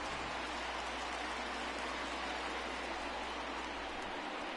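Night rain in the baseball video game MLB The Show 20 at a Boston Red Sox home game, a steady, even hiss of falling rain throughout with no voices.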